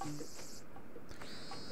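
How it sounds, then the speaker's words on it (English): Cicadas in the Animal Crossing: New Leaf game on Nintendo 3DS drone in a steady high, buzzing insect chorus that swells and fades, fairly quiet and with no talking. "I have too many cicadas in my town. They're noisy little beasts, though, aren't they?"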